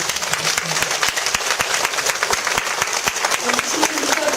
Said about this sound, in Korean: 원장님께 다시 한번 뜨거운 박수